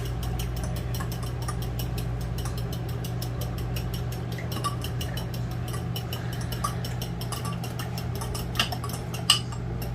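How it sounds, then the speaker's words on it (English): Eggs and buttermilk being mixed for a homemade finger-steak batter, with steady clinking and scraping of a utensil against a bowl running throughout at close range, over a constant low hum. "So we mix up the eggs and the buttermilk."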